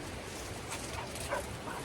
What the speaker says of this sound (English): we're letting the dogs loose and let them burn off some energy